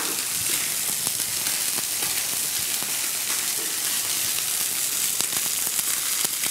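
Fish fillets searing in a pan over high heat in a restaurant kitchen, a steady dense sizzle and crackle of hot fat running unbroken and fairly loud, with no talking.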